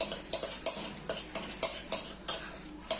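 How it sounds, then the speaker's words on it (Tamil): Soya chunks are mixed with curd in a bowl, giving a regular series of soft wet squelching strokes, about ten evenly spaced, close and moderately quiet, with no voices. "கொஞ்சமா இது கூட தயிர் சேர்த்து இதை மிக்ஸ் பண்ணி"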